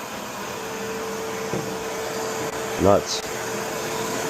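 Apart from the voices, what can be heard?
quiet vacuum cleaner suction running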